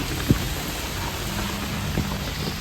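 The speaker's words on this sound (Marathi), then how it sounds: "तुम्हाला दाखवते पाऊस किती येतो" Heavy monsoon rain at Mahabaleshwar hiss as a steady, dense wash, with a few louder drops or knocks landing close by.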